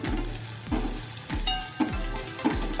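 Spoon stirring garam masala and coriander powder into masoor dal tadka in a hot pan, with a steady sizzle and repeated scraping strokes about every half second, close and moderately loud, no talking.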